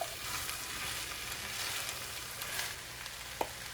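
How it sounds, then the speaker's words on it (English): Chickpeas frying in a pan with a steady, close hiss that runs throughout, with a short utensil knock near the end. "So we're gonna add our chickpeas in and mix them up."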